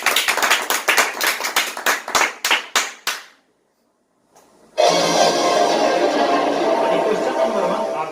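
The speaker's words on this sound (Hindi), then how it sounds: "दर्शक से चाहेंगे कि तालियों से इनका स्वागत किया जाए" Game-show studio audience welcoming a contestant: about a dozen loud, separate claps in a steady rhythm, a second of silence, then a burst of dense, continuous applause that carries on loudly.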